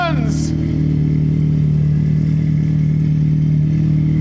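A Honda Civic race car with a K24 engine catches and settles into a loud, steady idle, its droning hum and fine rhythmic pulsing close by and filling the whole stretch.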